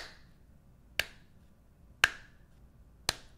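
Three sharp, isolated claps spaced about a second apart, slow and deliberate, in an otherwise quiet room.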